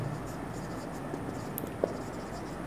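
Pen or chalk writing out a math series solution, faint scratchy strokes with a couple of small taps over a quiet room hum, no talking heard.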